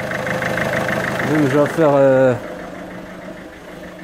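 A car engine idles smoothly and steadily with a low even hum after a repaired idle fault, while someone speaks briefly over it before the idle continues alone.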